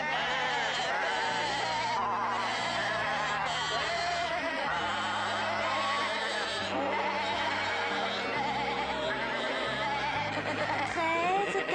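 Black sheep bleat repeatedly and loudly over a dense, continuous bed of music or background sound, the calls coming in overlapping bursts throughout.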